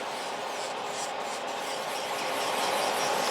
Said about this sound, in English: Here is the lifting in the corner, so I'm just straight away filing it away.